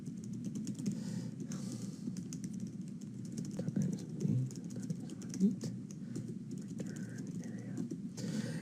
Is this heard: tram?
no